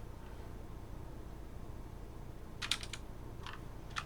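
Several quick keystrokes on a computer keyboard as numbers are typed during debugging, a short burst of clicks followed by two or three isolated taps, close and fairly faint over a steady low hiss with no talking.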